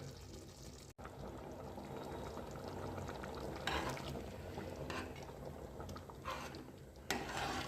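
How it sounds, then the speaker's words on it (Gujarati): Water is poured into spiced moraiya khichdi simmering in a pot. A faint, constant bubbling runs under soft splashy bursts now and then, with one sharp click near the start and no speech. "હવે તમે આમાં પાણી ફરતી ઉમેરી શકો છો"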